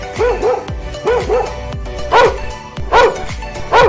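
A pet dog barks loudly and repeatedly near a house, a rapid series of sharp, close yelps and bow-wows in irregular bursts with no voices over them.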